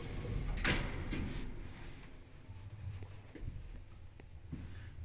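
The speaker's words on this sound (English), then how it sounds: "Doors closing." Elevator doors at Barnsley Town Hall slide shut with a close mechanical rumble and a clunk early on, followed by low motor hum and a few faint knocks, with no talking.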